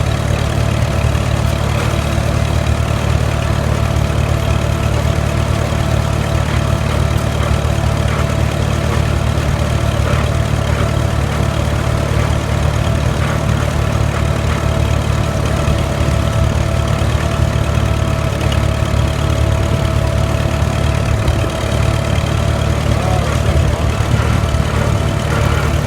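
A Farmall H tractor fitted with a front-mounted cultivator runs steadily, its loud, low engine drone holding constant and close throughout.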